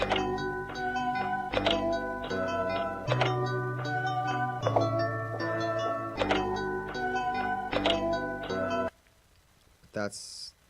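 An instrumental played at half speed: slowed, deep synth melody and bass with regular rhythmic hits, loud and steady, then stopping abruptly near the end before a brief burst of noise.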